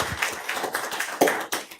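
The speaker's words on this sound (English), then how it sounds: "why don't we give an applause to all of your family members" Applause at a city council regular session: a short patch of light hand clapping, fairly close, a few scattered louder claps breaking through near the end.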